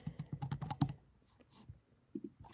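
A quick, close run of keystrokes on a computer keyboard types a name, then a few softer taps follow after a pause.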